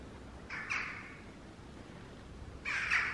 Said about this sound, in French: On a que les corbeaux.